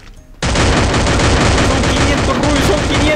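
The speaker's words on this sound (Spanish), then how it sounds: "¡Le estoy disparando!" A sudden burst of sustained automatic gunfire from the mobile battle royale game Free Fire erupts after a quiet moment and keeps up as a loud, rapid rattle to the end.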